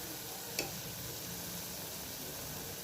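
Chili powder sautéing in hot oil for a beef gravy gives a steady, soft sizzle with a faint hiss throughout, plus one brief tick near the start, with no talking.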